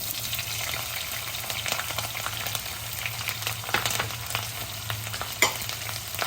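Crushed garlic and green chilli pieces frying in hot oil with dried red chillies, a steady close sizzle and crackle with occasional sharper pops and spoon scrapes, no voices.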